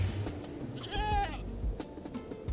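Minecraft goats bleating in a video game, one clear wavering bleat in the middle over light background clatter and a few soft thumps.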